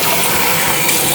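A safety razor rinsed under a running tap, a steady loud rush of water splashing close by without pause.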